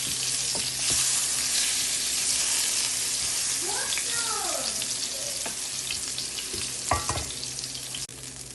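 Eggplant pieces sizzle steadily in hot oil in a pan, cooked for a hilsa curry, with a constant close crackle and a few light clinks of utensils near the end.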